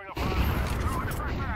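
Video-game gunfire crackles in a loud, dense burst of rapid shots that runs almost without a break, with a voice briefly heard over the shooting.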